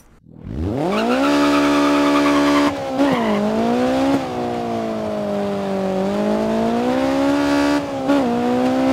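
A rear-wheel drive rally car in DiRT 4 revs hard from a standstill and holds a loud, steady engine drone with gear-change dips and brief tire squeal, close and continuous with no voices over it.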